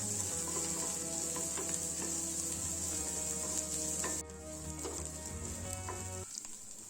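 Onion and green chilli frying in a pan for a puffed rice upma, a steady loud sizzle with occasional stirring scrapes, continuous and close, easing slightly partway through.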